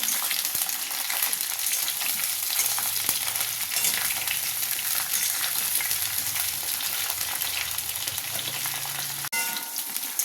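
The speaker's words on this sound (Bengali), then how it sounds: "এই ফুলকপিগুলো আমি কিছুক্ষণ হালকা লাল লাল করে ভেজে নেব।" Steamed cauliflower florets frying in hot oil in a pan, a dense, continuous sizzle close by, with occasional stirring scrapes and a short break near the end.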